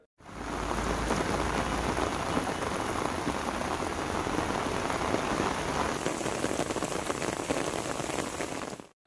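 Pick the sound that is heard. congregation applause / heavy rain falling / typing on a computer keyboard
heavy rain falling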